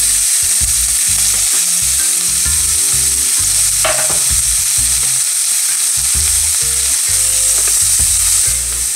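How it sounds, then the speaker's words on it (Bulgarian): Chopped onion frying in a layer of hot sunflower oil, a steady loud sizzle running throughout with repeated low scraping knocks of stirring in the pan, no voices. "Отсипахме част от сгорещеното олио и слагаме да се запържи лука."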